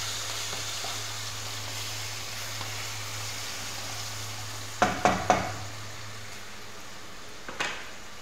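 Onions frying in a pan for bottle gourd (lau) curry, a low, steady sizzle under a faint hum, broken midway by a few quick utensil clinks and one more clink near the end.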